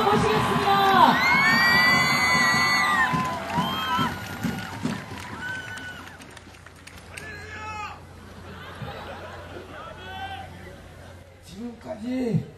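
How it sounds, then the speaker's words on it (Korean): A large crowd at a Korean peace-themed gathering cheers, whoops and claps loudly at first, then the noise thins into scattered chatter and shouts before rising again near the end. "문경현 신부님을 여러분의 큰 박수로 다시 한번 모시겠습니다"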